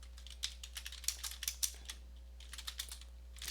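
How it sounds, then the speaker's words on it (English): Keys clatter on a computer keyboard in quick, irregular bursts of close, light clicks, with a low steady hum beneath. "So I'm going to type df."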